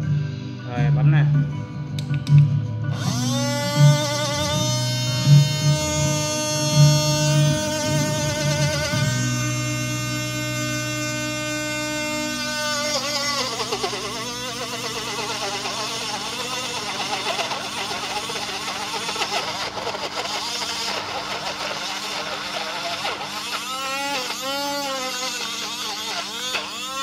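A mini handheld smoothie blender whirs with a loud, steady motor whine that shifts pitch partway through as the mixture thickens, with voices talking over it.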